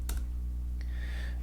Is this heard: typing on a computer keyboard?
yes